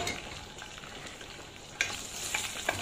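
Ground sambal spice paste sautéing in a little hot oil for pecak gurami: a soft, steady frying sizzle with a few sharper stirring scrapes near the end, close but quiet, with no speech.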